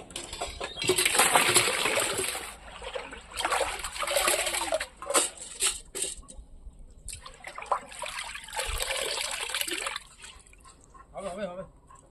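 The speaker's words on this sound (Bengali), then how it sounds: "আটা একবার ধোয়া হয়ে গেছে আরেকবার ধুয়ে নিই" Flour dough is washed by hand in water, with bursts of sloshing, trickling and splashing in several rounds, close and fairly loud, with a voice speaking between them.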